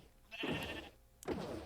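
Two blocky Minecraft sheep bleats, the first drawn out and the second starting after a short pause, clear and close with no talking.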